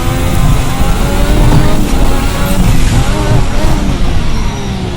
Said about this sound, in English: I can hear the turbos, I can hear the wastegates. I can hear the gearbox a little bit.